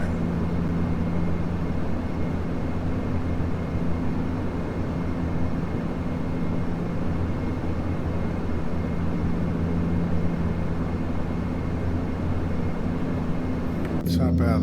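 A fixed-wing airplane cruises in the FSX flight simulator game, its engine holding a steady, loud drone with a constant low hum for the whole stretch, unbroken until a brief disturbance at the very end.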